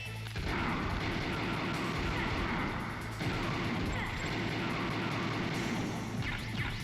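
Gunfire in the Metal Gear Solid video game: a dense, loud, continuous barrage of shots runs the whole length, with a short shift in texture partway through and voices buried beneath.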